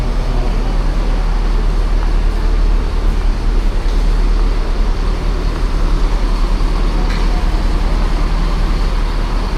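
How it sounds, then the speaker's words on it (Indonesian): A Brave Trans Executive tour bus idles near the roadside in Yogyakarta, its engine giving a steady low rumble under constant road traffic noise, loud and close throughout. "Nah ini dia bus kita."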